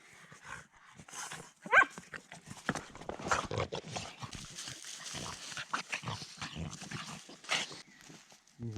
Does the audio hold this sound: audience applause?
no